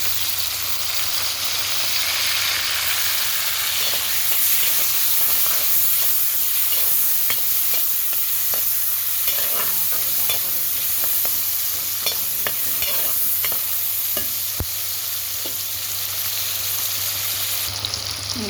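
Tomatoes sizzle steadily in a pan of fried onions, a constant frying hiss with scattered scrapes and clicks of a spoon stirring through the mix, close and unbroken, no voices.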